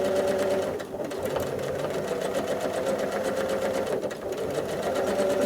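A sewing machine runs steadily through free motion quilting, stitching straight lines and sharp angles in a continuous fast whir, with one or two brief dips in speed.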